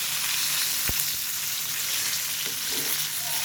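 A chicken burger patty fries slowly for a second time in oil, giving a soft, even sizzle with one sharp utensil tap near the start, close but fairly quiet.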